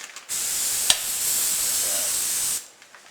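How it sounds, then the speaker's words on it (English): A CAT air assist airless spray gun spraying lacquer onto a board, one steady, bright hiss lasting about two seconds that starts and stops sharply, with a small click near the start. "Now that we're ready to spray the lacquer on the board, we've got the gun all set up."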